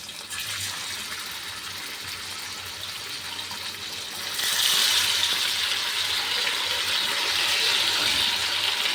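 Fish frying in hot oil in a pan, a steady broadband sizzle that swells louder partway through and then holds, close and without talk.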